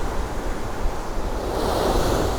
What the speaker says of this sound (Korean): 파도 소리 시원시원하죠